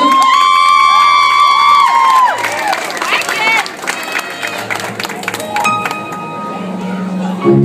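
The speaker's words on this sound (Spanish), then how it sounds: "un fuerte aplauso una vez más" Loud applause and cheering from a crowd, with whistles and shouts rising over a fading electronic tone, continuing steadily to the end.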